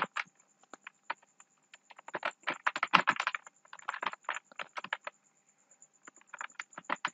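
A computer keyboard clatters with quick, uneven keystrokes as a code comment is typed, close and fairly soft, in dense bursts with short pauses and no talk.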